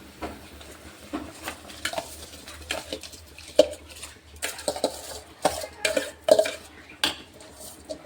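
Washed rice tipped into a pot of water and stirred, with close metallic scrapes and clinks of a spoon against the pot and soft wet patter, irregular and continuous, with no talk.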